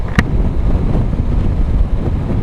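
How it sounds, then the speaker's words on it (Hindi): Strong wind buffets the microphone while riding a Benelli TRK 502 motorbike near Kanyakumari, a loud, continuous low rumble with gusty swells and no talking. "और ऊपर से हवा इतना"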